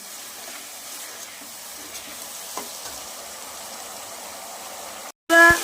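Spiced chicken masala sizzles and hisses as it is stir-fried with a little water in a pan, a steady close frying noise with faint stirring scrapes and a brief cutoff near the end.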